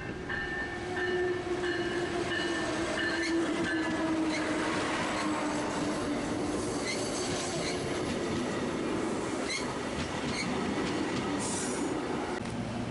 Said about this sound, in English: the Amtrak Harlem and Sandburg pulled in on the adjacent platform, with one of the Siemens Chargers leading it.